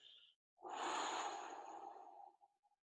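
A slow, deep breath out during a guided relaxation exercise, one long soft airy exhale lasting well over a second, close and quiet, tapering off into faint puffs.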